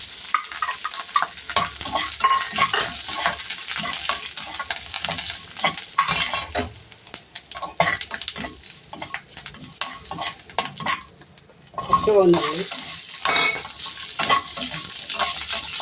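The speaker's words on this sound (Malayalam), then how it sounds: "കടുക് പൊട്ടി കഴിഞ്ഞാൽ കുറച്ച് ഉലുവ ഇടാം" Mustard seeds and fenugreek fry in hot oil for sambar, a crackling sizzle mixed with stirring scrapes and clinks of a spoon against the pan, close and continuous with a brief lull midway; nobody speaks.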